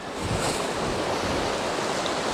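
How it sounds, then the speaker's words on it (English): Ocean waves break on a windy coastal shore, a dense, constant roar of surf and spray mixed with wind rushing past, loud and close throughout. "Where all the waves are breaking, the wind's heading straight inland"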